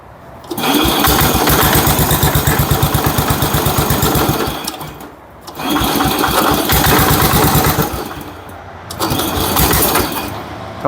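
A 1970 Allis Chalmers B 208 tractor engine, revived after sitting fifteen years, runs loud and close with a steady chugging beat, easing off twice into brief lulls before picking back up.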